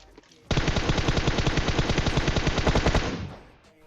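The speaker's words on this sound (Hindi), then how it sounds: "लेकिन लेफ्ट से कोई और गोली भी चला रहा था" Rapid automatic gunfire in a video game bursts in suddenly and rattles loud and steady for about two and a half seconds, then cuts off, with no voices over it.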